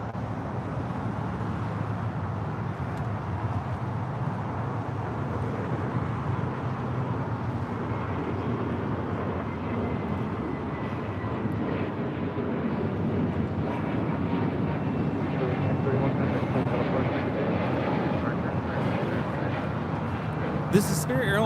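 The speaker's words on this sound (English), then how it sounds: "This is Spirit Airlines 631 taking off to Atlanta, Georgia on an A320 Neo" A Spirit Airlines Airbus A320neo jet takes off at LAX, a steady, distant engine roar that swells gradually over the clip with broadband wind noise.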